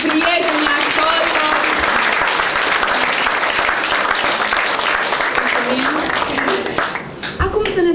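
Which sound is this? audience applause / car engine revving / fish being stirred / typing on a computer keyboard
audience applause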